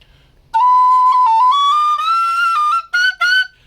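A carbon-fiber Carbony Mezzo whistle in A plays low notes: sustained, clear, full tones stepping gradually between pitches, closing with two short separate notes, alone and close.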